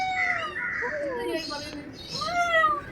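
A house cat meows in several drawn-out, wavering cries close by, overlapping with people's voices in a home.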